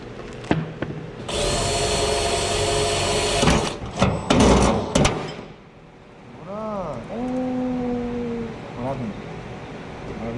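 A power drill with a hole saw whines at high speed for a few seconds, stutters through several bursts, then winds down as voices talk over it.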